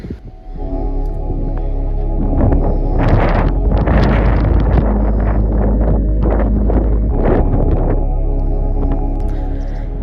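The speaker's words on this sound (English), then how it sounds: "It's a bit too windy up here" Heavy wind roars across the microphone at the top of Beaumaris Castle in loud, low buffeting gusts, continuous from start to finish with surging bursts.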